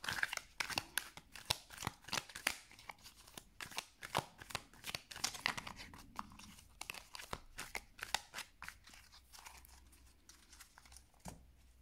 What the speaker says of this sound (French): On va remélanger le jeu.